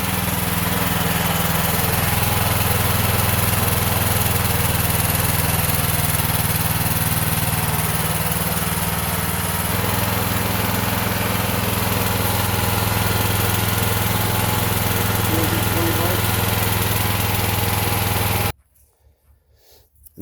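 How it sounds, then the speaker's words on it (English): A natural-gas-powered Honda generator runs in a steady, loud, close drone with a constant engine hum, then cuts off abruptly near the end. "There it is. Honda generator."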